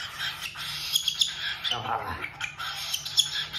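A pet cockatiel chirps and squawks indoors in bright, scratchy bursts throughout, close by, with a person talking softly under and between the calls.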